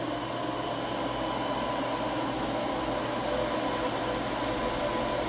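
Spindle of a Leadwell V-25 vertical machining center running at about 2,000 RPM, captured up close as a steady, even whine and hum with a broad hiss that holds constant throughout, with no talking.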